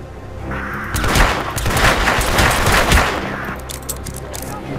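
Rapid bursts of automatic gunfire rattle in a fast, dense volley in the video game Hitman Absolution, loud and sustained for several seconds before tapering off, with faint voices underneath.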